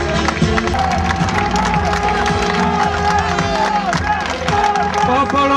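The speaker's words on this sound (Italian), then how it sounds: "è doveroso il saluto e un applauso caloroso al nostro sindaco Pier Guido Vanalli" A rally crowd at Pontida cheers and applauds the mayor, producing a dense, continuous roar of voices and clapping that stays loud throughout.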